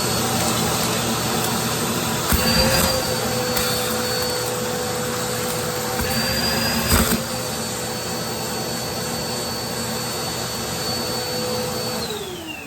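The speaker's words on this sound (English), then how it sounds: "Let's turn on our vacuum, check our suction." A vacuum cleaner runs steadily while sucking air through a sealed-up dryer vent, a loud continuous whine and roar with brief knocks and pitch shifts as the airflow changes.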